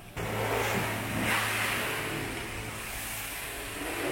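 A car pulling into a car wash in Japan, its mid-pitched engine rising in from nearby then holding a steady drone with road noise, no voices.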